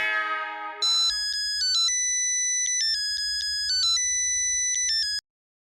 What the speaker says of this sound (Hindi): रोशन सिंह सोडी फोन घुमाओ।